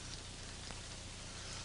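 Heavy tropical rain pours down in a dense, steady roar that fills the whole moment evenly, close and loud with no other sounds.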